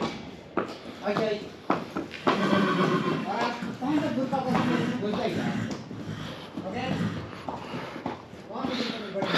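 A horse whinnies and hooves clip-clop at a horse riding event, close and fairly loud, with people talking over much of it.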